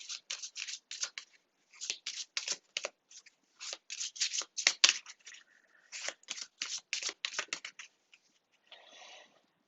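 A deck of tarot cards being shuffled and cut, with quick bursts of riffling and flicking in repeated runs and short pauses between them, close and crisp, ending with a softer slide.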